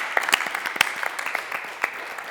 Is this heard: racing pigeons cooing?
no